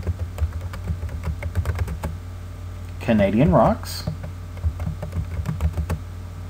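Computer keyboard typing while a title is entered on a PowerPoint 2013 slide: quick, light key clicks in an irregular stream, with a brief spoken phrase partway through.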